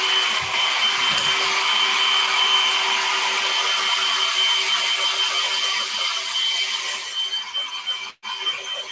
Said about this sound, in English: I'm going to use a noisier hair dryer to get this to dry.